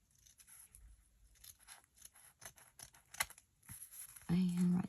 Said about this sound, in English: now I'm going to go ahead and trim this down a little bit